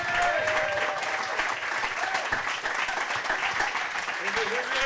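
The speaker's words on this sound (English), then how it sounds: "To your thunderous like applause." Studio audience at a live comedy show in New York City applauds loudly and steadily, a dense wash of clapping with some cheering voices and a few tonal whoops mixed in.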